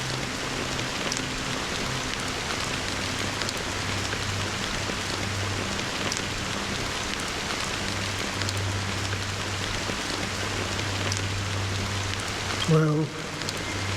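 Steady rain patters continuously at a moderate level in the video game Honkai: Star Rail, with a low droning hum underneath and a brief sharp sound near the end.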